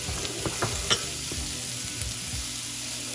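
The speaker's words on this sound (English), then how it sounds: "And we're just going to stir this and add in all of our powders one by one." Chopped onions frying with spice powders in a pan for an Indian-style scallop fry, the spoon scraping and clicking a few times over a constant close sizzle, without any voices.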